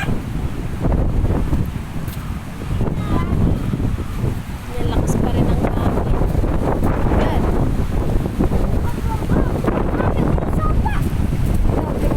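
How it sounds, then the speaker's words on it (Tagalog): Strong wind still blowing in the aftermath of Typhoon Uwan, buffeting the microphone in loud, gusty roars with a brief dip near the middle, while people talk over it throughout. "grabe, ang lakas pa rin ng hangin dito"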